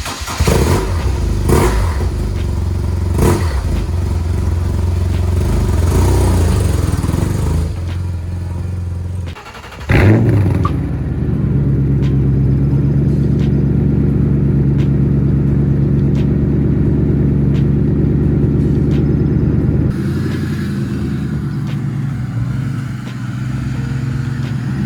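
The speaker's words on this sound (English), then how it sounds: "my dad needs to back out his motorcycle from the garage so we can bring in the car here and start working" A motorcycle engine runs steadily in a home garage as it is backed out, its loud low idle rumble holding throughout with a brief dip and a short rev partway through.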